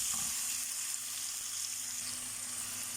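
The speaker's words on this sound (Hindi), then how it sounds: "तो अब मैं इसमें ये जो टमाटर मैंने किए थे ये मैं डाल देती हूँ।" Tomatoes fry in a hot pan for a fajita seekh kabab dish, a close, steady sizzling hiss throughout, with no voices.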